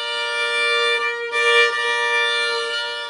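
Slow, sustained violin bowing holds a single steady, rich tone for about three seconds, close and moderately loud with a slight swell midway.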